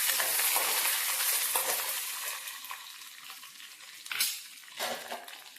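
Whole chillies, fish and curry leaves sautéing in hot oil, an intense close sizzle that gradually subsides, followed by a couple of scraping stirs.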